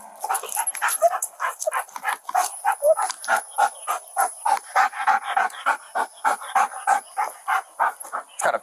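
A police dog pants in quick, regular breaths close to the listener, a steady rhythm of sharp huffs broken by a few whimpers and yips.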